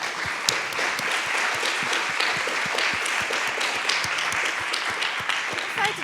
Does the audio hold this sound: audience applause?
yes